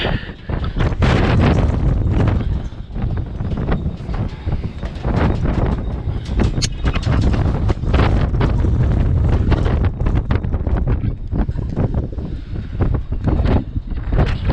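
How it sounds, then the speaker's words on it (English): Heavy wind buffets the microphone in loud, continuous gusty rumbles and thumps on a pig farm, with no voices heard. "it's a little bit windy today, so sorry if it's all garbled."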